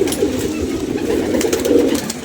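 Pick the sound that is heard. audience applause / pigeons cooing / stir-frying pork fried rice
pigeons cooing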